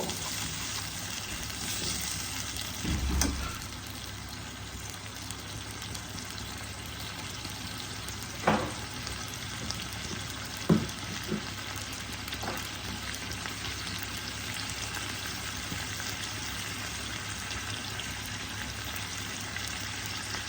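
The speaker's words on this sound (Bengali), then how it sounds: "মশলাটাকে ভালো করে কষিয়ে নেব।" Masala spice paste for malai kofta curry sizzles softly in a pan as it is fried and stirred: a steady low hiss with a few scattered clicks and knocks, no voices.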